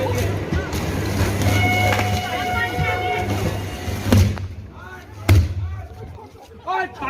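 An electrical explosion flashes as a train contacts a 25,000-volt overhead power line on the Indian rail network, heard as several sharp, loud bangs over a steady hum and background noise.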